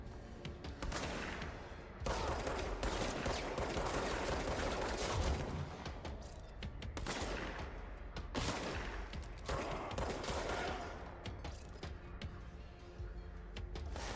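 Dense, loud gunfire in the video game Control running on a Mac, heavy blasts in sustained volleys with brief pauses, close and booming, shotgun blasts among them.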